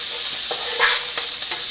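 Spicy potatoes being stirred in a pan with the heat just off, soft scraping strokes over a gentle sizzle.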